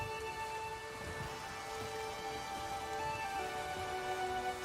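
Steady storm rain in The Witcher 3 falls as a dense, continuous hiss with a low rumble underneath, constant and moderately loud throughout, with no voices.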